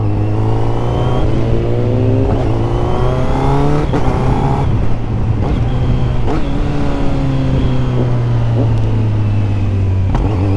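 A 2021 Kawasaki Z900 motorcycle fitted with a quickshifter accelerates hard, its engine note climbing through the gears in steady rising sweeps with brief dips at each shift, loud and close throughout.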